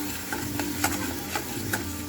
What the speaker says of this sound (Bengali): আমার ভালো করে কষানো হবে